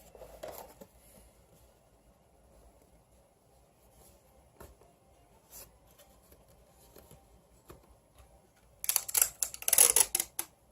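Clear tape is pulled off its roll and pressed along the edges of a small storage box for a Canon T6 camera, with soft crinkling and handling sounds building to a louder burst of ripping tape near the end.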